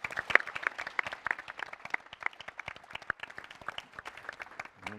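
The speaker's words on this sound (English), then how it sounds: "So I'd like a big round of applause for all of that." Audience applause at a regional youth summit in Vancouver, sparse and fairly quiet, with scattered individual claps standing out over a thin crowd patter for about five seconds.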